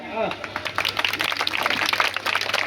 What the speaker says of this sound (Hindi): मैं चाहता हूँ एक बार सभी लोग अपने सम्मान में तालियां बजाएं।